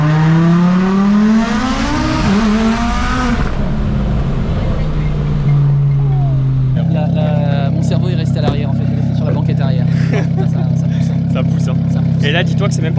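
Heavily tuned Audi RS3 five-cylinder pulling hard under full acceleration, a loud droning engine note climbing through gears with a shift break, heard from inside the car; excited voices talk over it, and later a steady high drone continues.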